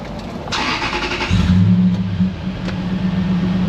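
A truck's engine cranks briefly and catches about a second in, then settles into a steady, loud idle close by, with no one talking.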